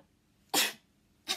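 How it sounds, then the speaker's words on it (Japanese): Two short, sharp bursts of breath a moment apart, a sneeze-like explosive sound followed by a smaller second one, close and otherwise quiet. "最近くしゃみ連発するやん"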